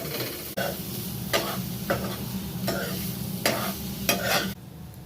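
Pahadi potatoes, about 70% cooked, fry with garam masala and other spices in a pan, a steady close sizzle broken by several scraping stirs of a spoon through the mixture.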